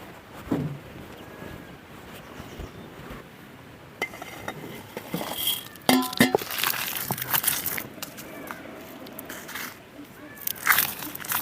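Dried fish ingredients are crushed into powder in a village kitchen, with irregular scraping, clinking and pounding strokes that grow busier and louder toward the end over a faint background.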